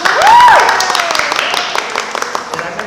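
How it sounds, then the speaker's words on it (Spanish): A crowd claps during a gathering at a contemporary art museum in Spanish, applause rising early then thinning into scattered claps, with a voice and a whistle-like tone briefly over it. "¡Aplausos, aplausos!"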